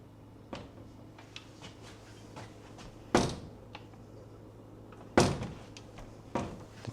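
A door being moved, with two sharp, fairly close bangs and a few faint knocks and taps between them in a quiet room.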